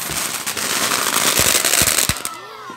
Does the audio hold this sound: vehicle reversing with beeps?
no